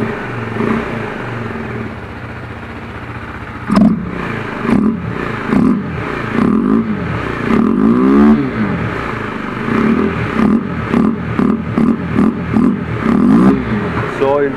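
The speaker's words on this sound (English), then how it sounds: "how the engine sounds when you remove this air filter" A KTM Duke 390 motorcycle engine with its air filter removed revs repeatedly up close, loud throttle blips rising and falling in quick bursts over a rough idle, with mechanical clatter between revs.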